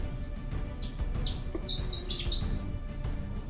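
Several short, high bird chirps and tweets in a video game forest, over a steady low ambient rumble, moderately close and fairly quiet.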